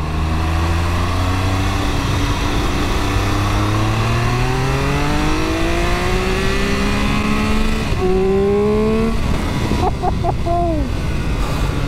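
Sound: Triumph Speed Triple RR motorcycle accelerating

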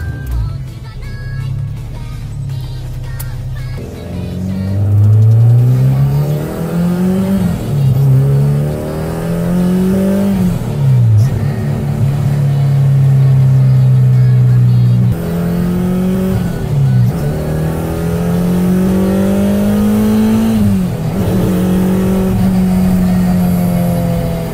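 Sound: cars speeding past on highway, Honda Day

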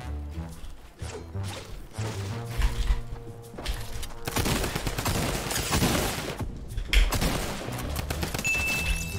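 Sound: drum gun firing in the video game Fortnite

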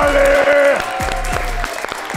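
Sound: audience applause

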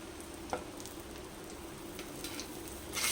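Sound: Kashmiri chilli powder and spices sizzling in hot oil

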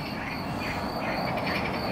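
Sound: frogs croaking at night

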